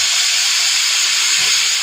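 A pressure cooker boiling chicken vents steam in a steady, loud, continuous hiss that runs unbroken from start to finish.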